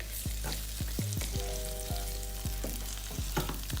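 Onions frying in pork chop grease on a stovetop sizzle steadily and close up, a continuous crackling hiss with occasional sharper pops and stirring knocks throughout, with no voices.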